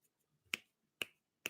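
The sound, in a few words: attempted finger snapping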